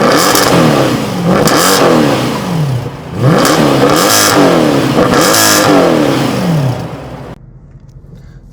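Mercedes-AMG C63 Black Series engine revving repeatedly, several loud rising blips that fall back between each, close and dominant, before dropping away to a quiet idle at the end.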